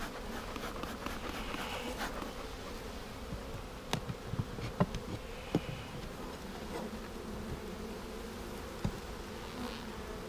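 Honeybees in package bee hives drone in a constant close buzz, with occasional sharp clicks and knocks from hive handling breaking through.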